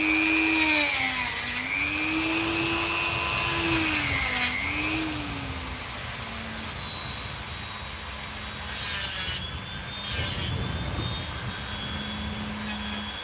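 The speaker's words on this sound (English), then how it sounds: "I suppose you could do that with a Dremel." A Dremel rotary tool engraves a plus sign into plastic on a budget drill set, giving a close, steady high-pitched whine whose pitch dips as the bit bites, running continuously for about thirteen seconds.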